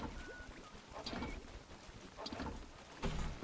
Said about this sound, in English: I'm get on my armored boat